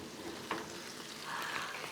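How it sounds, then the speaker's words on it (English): Soft, steady sizzling and crackling of a whole roast chicken hot out of the oven, close and low, with a few faint pops. "That is one sizzling chicken"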